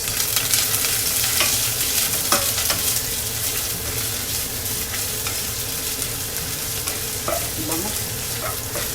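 Onion sautéing in a pan for ginisang patola, a loud, dense sizzle with scattered stirring scrapes and spatula taps, close up and continuous with no voices.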